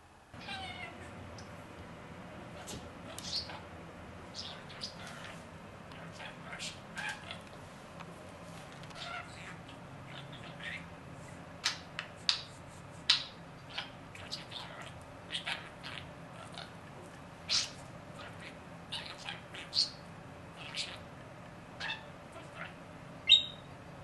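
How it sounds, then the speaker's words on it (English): A pet bird loose out of its cage in a home kitchen gives many short chirps and squawks, scattered irregularly and fairly faint against a quiet room. "Looks like I'm gonna be in the kitchen all night until Charlie goes back into his cage."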